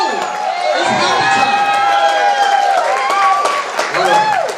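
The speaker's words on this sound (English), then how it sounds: "Round of applause for them." A crowd at a club's holiday party gives a round of applause for the VinFen leadership, loud clapping and cheering mixed with shouting voices and whoops close by.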